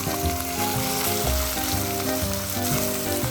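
Whole garlic cloves fry in a pan with a steady, close, crackling sizzle, with a few brief stirring scrapes and no talking.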